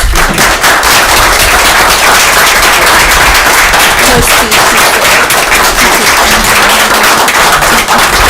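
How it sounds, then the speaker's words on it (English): A round of applause fills a city council meeting, with dense, loud, continuous clapping from many people throughout. "we'll give them a round of applause"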